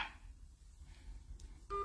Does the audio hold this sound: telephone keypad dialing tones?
yes